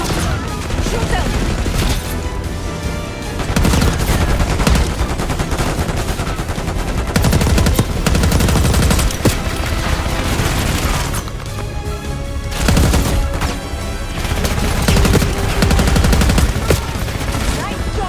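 Heavy gunfire in the Call of Duty Black Ops 6 campaign, loud sustained machine-gun bursts and repeated shots with booming hits and mechanical clatter, continuing in waves with brief lulls, with some voices mixed in.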